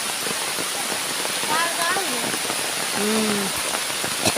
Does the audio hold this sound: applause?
no